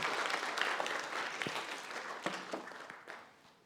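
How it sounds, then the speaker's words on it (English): Lecture hall audience applauding students after a classroom demonstration, a burst of many hands clapping that starts full and gradually thins and fades out over a few seconds. "can we have a huge round of applause for Chi and Angbo for doing our swap?"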